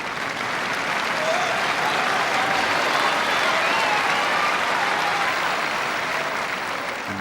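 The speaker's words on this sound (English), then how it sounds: "the applause will tell you that she's reached set point" Wimbledon tennis crowd at a 2000 women's quarter-final bursts into sustained applause at set point, a steady, loud wash of clapping from a large audience with no break.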